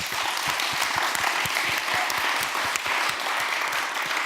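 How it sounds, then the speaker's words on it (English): An audience at a democracy meet-up gives a warm, sustained round of applause, a dense, steady wash of many hands clapping close by that continues without pause from start to finish. "give them a warm round of applause, please"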